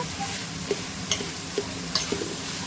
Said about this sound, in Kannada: ಈರುಳ್ಳಿ ಹಾಕಿದ ಮೇಲೆ ಚೆನ್ನಾಗಿ ಬಾಡಿಸ್ಕೊಳ್ಬೇಕು